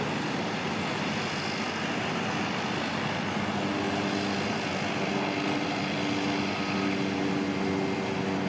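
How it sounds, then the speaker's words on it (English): Great Barrier Airlines Cessna Caravan turboprop taking off at Auckland Airport, a steady broadband propeller roar with a faint whine, constant and moderately distant throughout with no voices. "Great Barrier Airlines Cessna Caravan just taking off."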